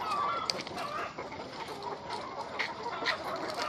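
A hen clucks intermittently in a farmyard where eggs are collected, fairly faint and somewhat distant amid broad outdoor background noise, with no talking.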